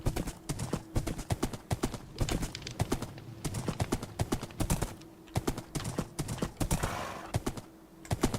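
Horse hooves clip-clopping in Minecraft, a quick run of sharp, close, irregular clopping steps that continues nearly the whole time, with a brief faint whinny-like sound near the end.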